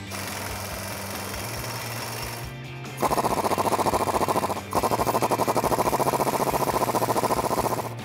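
A 10 mm socket on a power tool loosens the drive shaft bolts of a 2009-2014 Ford F150, a loud, rapid hammering rattle that starts abruptly after a quiet hum, stops briefly, then resumes in a steady burst.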